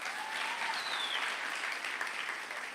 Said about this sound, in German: Dat mag aan met een applaus geven.